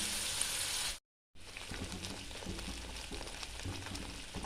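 Chicken pieces being sautéed for green hariyali chicken crackle and sizzle steadily in a hot pan, a dense continuous frying hiss broken only by a brief silent gap near the start.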